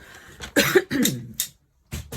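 A few sharp, close coughs in quick succession, with a brief throat-clearing quality, followed by a short pause and another small cough.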